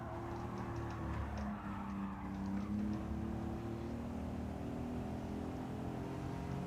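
Race car engine in Gran Turismo during a time trial, a continuous droning whine with steady harmonic tones as the car works through a turn, loud and sustained with no speech.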